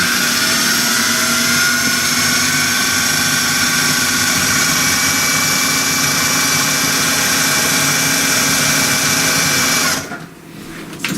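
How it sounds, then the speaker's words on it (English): A food grinder whirs loud and steady grinding mushrooms for a veggie burger, a constant motor drone with a mechanical rattle, cutting out abruptly near the end. "Grind up the mushroom good before I throw the quinoa in."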